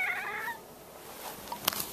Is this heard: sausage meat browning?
no